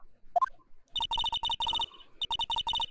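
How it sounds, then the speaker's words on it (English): A phone rings after a redial in the Phoenix Wright: Ace Attorney video game, a brief rising chime followed by repeated bursts of an electronic ringtone in steady rhythmic pulses, clear and alone. "You pressed redial on that there phone, didn't you?"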